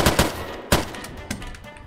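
Video game gunfire sounds out in short bursts, several loud close shots over a couple of seconds with brief gaps between them.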